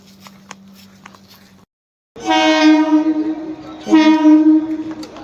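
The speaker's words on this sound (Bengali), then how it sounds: "ট্রেন" A train near Sealdah, Kolkata, sounds its horn loudly, two long blasts in close succession over faint rumble, with quieter background clatter before.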